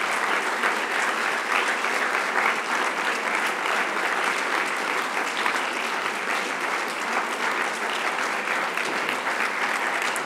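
Sustained audience applause at the end of a lecture on Hannah Arendt and the humanist's task in Bombay, a dense, steady roar of many hands clapping at even loudness throughout, with no voices over it.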